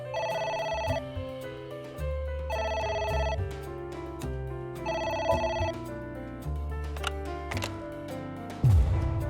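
A telephone rings repeatedly in the AI: The Somnium Files video game, several evenly spaced bursts of ringing over background music.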